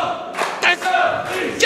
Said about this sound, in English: You can hear the crowd here are firmly behind Safire Reed